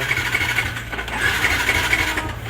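A Yamaha R15 V2 motorcycle engine with a misfire despite new spark plugs and ignition coil runs at a steady, loud idle, its low drone carrying an uneven, stumbling pulse.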